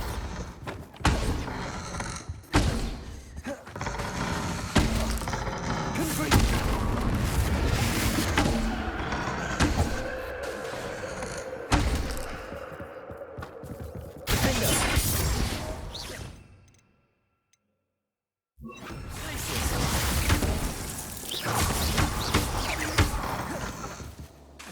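Bombarda spell explosions in Hogwarts Legacy erupt as loud, dense blasts with whooshing bursts, running almost continuously before a brief full silence and then another heavy burst.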